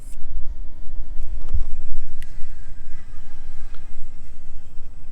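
SCX24 RC crawler fitted with an RCAWD 2-speed motor and transmission, stock V2 ESC and brass wheels, running outdoors in low gear, giving a steady close whir and rumble with small clicks.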